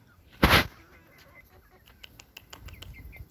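A chicken lets out one loud, sharp squawk close by near a backyard coop, followed by softer, scattered clucks and rustling.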